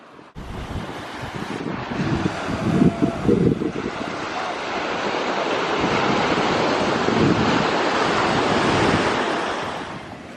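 Atlantic Ocean waves break and wash up a beach in April, a loud rolling surge building and fading over several seconds, with gusty wind buffeting the microphone throughout.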